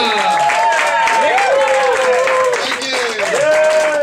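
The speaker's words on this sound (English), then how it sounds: "So keep clapping, keep stomping, make some noise for headliner, Mr. Shayne Hunter." A crowd claps for a stand-up comedian at an activist fundraiser, giving steady, sustained applause over the whole stretch while a voice talks on top of it.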